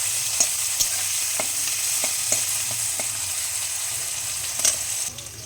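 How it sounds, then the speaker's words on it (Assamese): Chopped onions and green chillies fry in hot oil in a pan, a continuous close sizzle broken by a few sharp scraping stirs, with no one talking. "এতিয়া দিম কাটি ৰখা পিঁয়াজখিনি, জলকীয়াখিনি। এতিয়া অলপমান এইখিনি ফ্ৰাই কৰিম।"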